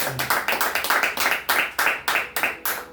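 A church congregation applauds during a sermon with loud, rhythmic clapping in quick, evenly spaced bursts that repeat steadily throughout.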